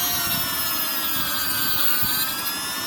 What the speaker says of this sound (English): Cutting saw, cut off saw.